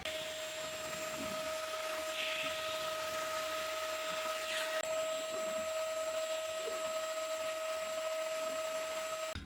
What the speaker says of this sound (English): it's time to do some vacuum cleaning